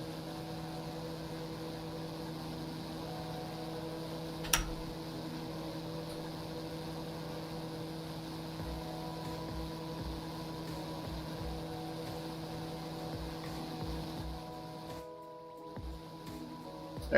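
A TBM 900 turboprop engine runs in the X-Plane 11 flight simulator, a steady droning hum with a sustained tonal whine, heard at constant level for many seconds with a brief dip near the end.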